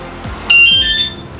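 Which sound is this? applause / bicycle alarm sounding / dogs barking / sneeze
bicycle alarm sounding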